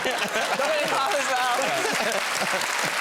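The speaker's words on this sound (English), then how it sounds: "Why are you clapping?" A studio audience at a television talk show claps steadily, with people talking and laughing over the dense patter of hands throughout.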